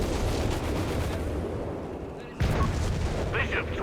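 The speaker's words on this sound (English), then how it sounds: "Artillery strike here to clear out some of the German defenses here, utilizing the rapid artillery barrage." A rapid artillery barrage in Company of Heroes 3 hits German defenses, with heavy booming blasts rumbling continuously, a sharp loud impact partway through, and the game's battle noise under a commentator's voice.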